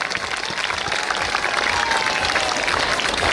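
Loud, dense clapping from a large group of young schoolchildren at a school annual function, continuous and even throughout with no pauses.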